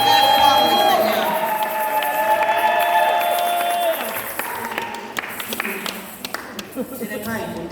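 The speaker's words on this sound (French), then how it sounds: "Acclamons très fort le Seigneur." A church congregation at a women's conference in Sheffield cheers, shouts and applauds loudly, with sustained voices and whistles at first giving way to scattered clapping and calls.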